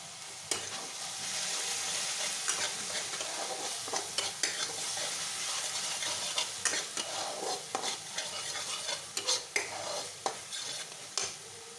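Ground cumin and coriander fry in a pan for an egg and soybean curry, a steady sizzle broken by repeated scraping strokes of a spatula and occasional light clinks against the pan.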